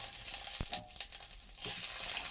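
Ginger paste stirred and frying in a pan for a rice pulao: a steady, close sizzle with a sharp knock near the start and brief scraping from the stirring partway through.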